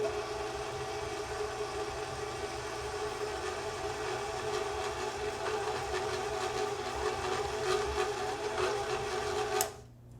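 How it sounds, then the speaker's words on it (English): A stand mixer works spritz cookie dough on low speed with a steady, moderate motor whir and faint rhythmic churning that cuts off abruptly near the end. "We'll be mixing on a low speed until the flour is just combined."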